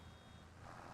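A baler warning beep in Farming Simulator 25, signalling the bale chamber is nearly full, sounds faintly over a steady low tractor engine drone, with no clear separate tones standing out.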